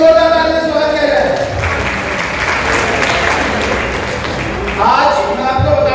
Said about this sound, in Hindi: उनके लिए भी जोरदार तालियां स्वागत किया जाए।